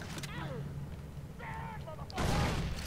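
A grenade explodes in the video game Far Cry 3, a sudden loud broadband blast near the end after a short stretch of voice and quieter game sounds.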